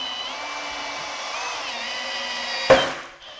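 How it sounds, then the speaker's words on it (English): A step drill bit is pushed firmly through stainless steel, giving a steady close whine that holds a nearly constant pitch and ends with a brief harsh burst as the hole breaks through. "when I'm just drilling this hole, pushing really firmly, I'm just using one of these step drill bits"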